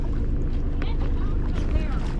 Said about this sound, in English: You might be trying to figure out where the motor just came from.